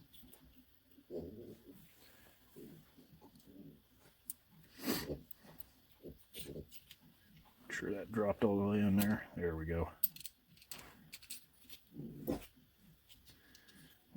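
A dog whimpers and snorts close by in a workshop while someone speaks over the rifle bolt he is working on, with small metallic handling clicks between.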